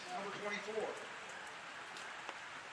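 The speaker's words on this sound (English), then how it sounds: "this is as heavy a rain as we have seen here today" Heavy rain pours on a women's college soccer match between Binghamton and Vermont, a steady hiss of falling drops under a commentator's voice.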